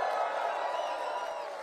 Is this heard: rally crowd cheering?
yes